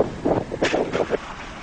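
Arctic squall wind gusting at a shore camp in Greenland, buffeting the microphone in a few rough, uneven bursts over a steady windy background.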